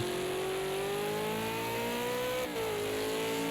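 A V8 Supercar races on the Nurburgring GP circuit in a racing video game, its engine droning steady and loud. The pitch climbs smoothly, dips briefly at a gear change, then rises again, with no voices over it.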